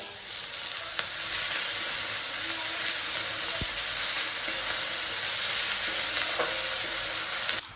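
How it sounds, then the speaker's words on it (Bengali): Tomato, ginger-garlic paste, green chili and onion fry together in hot oil, giving a continuous, even sizzle that is close and loud, with an occasional clink of a utensil. "টমেটো, আদা রসুন বাটা, কাঁচা লঙ্কার পেঁয়াজ দিয়ে একসাথে এগুলোকে ফার্স্টে ফ্রাই করে নেব"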